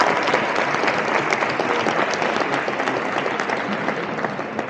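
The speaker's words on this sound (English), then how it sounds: "let's start with a big applause" A large audience at a European blockchain convention in Barcelona applauds, giving dense, steady, loud clapping that fills the whole stretch and fades only slightly toward the end, with no voices standing out.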